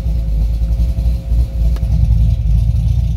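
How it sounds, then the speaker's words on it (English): A cammed LS3 C6 Corvette idles with its mufflers closed, a loud, close, deep, lumpy rumble that pulses unevenly throughout. "That's the mufflers closed when it idles."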